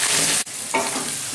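Potato and onion sautéing in a pan for a Bengali-style hilsa fish dish make a steady sizzle. A brief scrape of stirring breaks it, and the frying hiss then returns, close and moderately loud.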